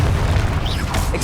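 A Confringo blast spell in Hogwarts Legacy bursts with a low, rumbling boom and crackling debris, loud and continuous through the short moment with no talk over it.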